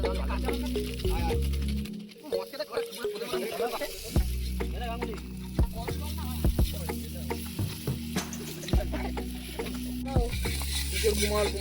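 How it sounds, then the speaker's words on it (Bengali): Spice paste is stir-fried in a wok at an outdoor picnic, a continuous sizzle broken by scraping stirs and spatula knocks, with people talking over it and a low steady hum underneath. "এবার কষাচ্ছি, মশলাটা ভালো করে কষাবো"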